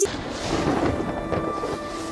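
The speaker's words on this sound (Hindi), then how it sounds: "अचानक उन्हें अपने ऊपर बादलों की गरज सुनाई देती है।" Thunder rumbles through dark clouds overhead, a loud, deep, rolling boom that swells after a sharp onset and carries on for a couple of seconds without any voices.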